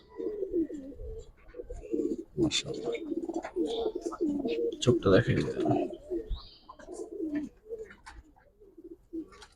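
Giribaz pigeons, including silver-coloured birds, coo in soft repeated low calls close by, mixed with fluttering and handling noises while someone talks over them.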